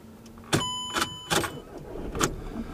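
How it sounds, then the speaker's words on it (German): A car engine being started for an exhaust temperature sensor check after a particulate filter, heard as a few short close bursts of cranking and catching, with no talk. "So, ich starte den Motor."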